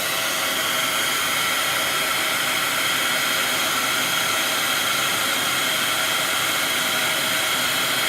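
A heat gun blows hot air over embossing powder at a crafting table, a loud, constant rushing whoosh that holds steady without pause and with no talking.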